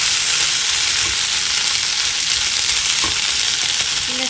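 Potato curry with masala fries steadily in a pan, a constant close dense sizzle with no break and no voices.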